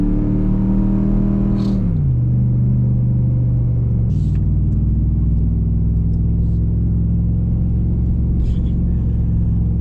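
A vehicle drives across town with a loud, continuous engine drone inside the cab; the pitch drops twice as gears change, and faint clicks sound over the hum.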